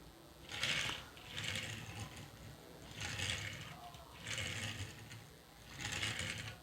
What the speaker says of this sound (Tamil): வீல்ஸ் ஏதோ ஸ்டக் ஆகி ஓடுற மாதிரி இருக்குது.